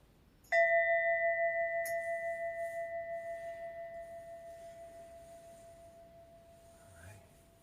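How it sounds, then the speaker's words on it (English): A single bell struck once rings out clearly with a pure sustained tone that slowly fades over several seconds in a quiet room, with a faint knock near the end. "My fancy new bell, purchased by my love"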